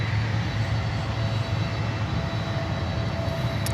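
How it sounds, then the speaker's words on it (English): Steady, loud roar and whine of an Airbus A320neo airliner's jet engines as it arrives at Miami airport, a continuous wash of engine noise throughout with no pauses. "And there's another Neo coming in."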